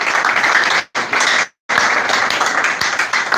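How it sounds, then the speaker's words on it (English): Applause from a student audience at a defense and anniversary event, steady dense clapping broken by two short silent gaps, loud and close throughout. "Please clap for that, please."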